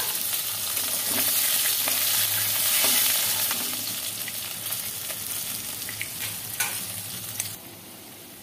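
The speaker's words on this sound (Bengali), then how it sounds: "দেখি মাছটা কতটা হলো ভাজা।" Fish fry in a pan of hot oil, a loud continuous sizzle with occasional stirring and clinks from a utensil, fading slightly toward the end.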